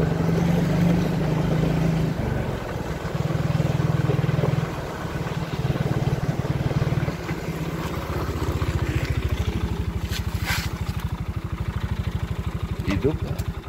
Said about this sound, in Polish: Ściszę silnik.